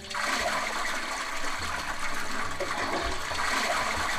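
A toilet flush from a Minecraft furniture mod plays at steady volume, a broad rushing and gurgling wash of water that holds for several seconds with no other sound.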